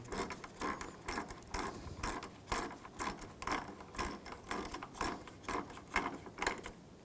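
A hand ratchet clicks in quick, uneven strokes while tightening the bolt on a windshield washer reservoir of a 2011–2018 Volkswagen Jetta TDI wagon, heard close up with no talk.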